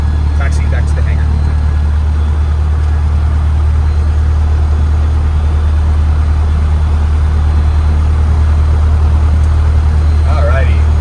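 A Cessna 152 light aircraft taxis back to the hangar at Fremont, its engine a loud, steady low drone heard from inside the cabin, with brief radio or voice bits over it.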